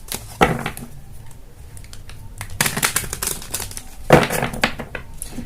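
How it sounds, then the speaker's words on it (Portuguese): Tarot cards shuffled, drawn and laid out on a table, with soft papery slides, light taps and a sharper snap near the end, all close and without talking. "Eu vou tirar mais cartas aqui para saber mais."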